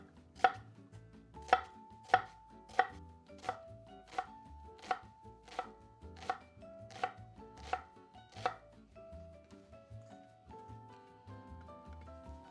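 A knife chops through half an onion on a cutting board in about a dozen crisp, evenly spaced thuds, close and clear, fading toward the end.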